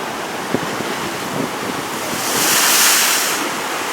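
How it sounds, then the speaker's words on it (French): Strong ocean waves break and surge along the beach at Biarritz, a steady roaring wash that swells louder for a moment mid-clip before easing back, with no voices. "comme vous pouvez le voir, les vagues étaient très fortes"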